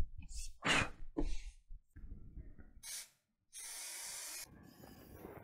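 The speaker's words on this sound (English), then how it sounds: "I'm gonna spray the wood first and then spray the laminate." Adhesive sprayed from a can onto wood and laminate, heard as short hissing bursts, one of them longer and sustained, separated by brief handling noises and pauses.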